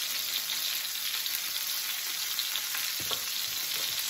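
Ground meat seasoned with salt and garlic browns for keto tacos, hissing in a pan with a steady, even sizzle and a few soft stirring scrapes, close and uninterrupted.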